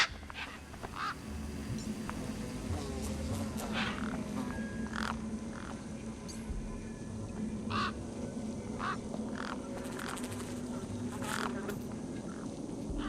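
Birds squawk and honk in the video game Beyond a Steel Sky: repeated short, harsh calls over about thirteen seconds, irregularly spaced against a constant low ambient drone, with no speech.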